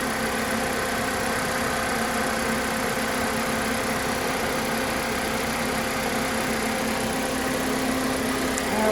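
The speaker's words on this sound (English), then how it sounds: "There's your engine. 4-cylinder, purring like a kitten." A 2021 Toyota Corolla LE's 4-cylinder engine idling under the open hood in light drizzle, a steady, smooth hum with a constant low drone and no revving, close and even throughout.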